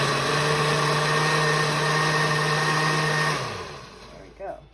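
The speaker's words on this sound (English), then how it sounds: "so I want to make sure it's blended up." Blender whirring steadily while it purees salsa verde with garlic, a loud droning hum that winds down near the end, followed by a brief clunk.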